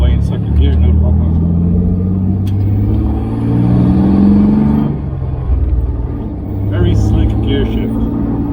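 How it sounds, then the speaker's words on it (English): An MGB fitted with a V6 Camaro engine pulls away in second gear, its loud, deep rumble rising steadily under close talk inside the car. "Pull away in second gear, no problem."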